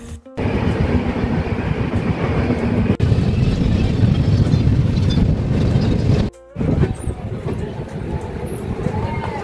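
A passenger train rumbles into Parasnath station in Jharkhand, heard from on board as a loud continuous roar with brief dropouts, and voices faintly mixed in.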